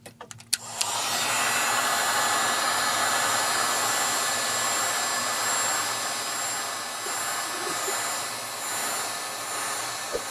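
A heat gun warms an iPad 2 screen to loosen the digitizer, a loud close steady blowing roar that starts with a click and runs continuously for about ten seconds.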